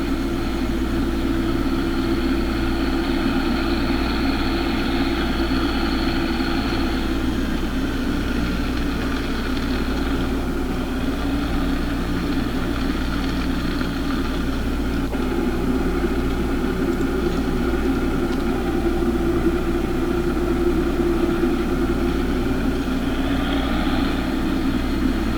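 A farm bagger's engine idles steadily with a low, droning hum and faint mechanical whine, a continuous, even tone with slight shifts in pitch and no talking.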